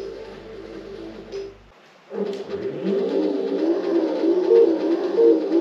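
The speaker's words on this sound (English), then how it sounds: "Car sounds pretty mean, eh?" A car engine in the Top Gear racing video game drones at a steady pitch, cuts out briefly, then revs back up into a sustained, tonal, slightly wavering whine that holds strong to the end, with no voices.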